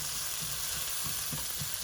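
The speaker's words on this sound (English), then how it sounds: "So keep sauteing it until it comes to a nice translucent color." Onions with ginger, garlic and tomatoes saute in a pan, giving a brief, even, close sizzle with faint stirring underneath.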